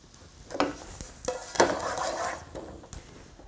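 Whole spices crackling in hot oil, heard as soft uneven pops and sizzles with a few stirring scrapes and light clinks, fairly quiet and close, no talking.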